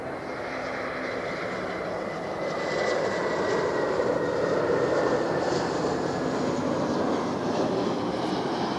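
An Airbus A321 jet airliner after landing at LAX gives a loud, steady engine roar that swells slightly midway and holds, close and unbroken, with no talk over it.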